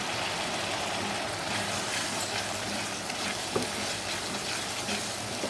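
Ghee sizzling with grated carrot in a pan for carrot halwa, a steady loud frying hiss with occasional stirring scrapes and no talking.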